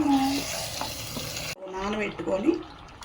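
Chicken curry, a country-chicken stew, being mixed by hand or spoon with salt and chilli powder in a sizzling pan, giving wet stirring and frying sounds that break off midway, then resume with a voice speaking over them.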